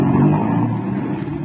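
Old-time radio sound effect of a car driving away, a steady, fairly loud engine rumble that holds for a moment and eases off slightly, with no voices over it.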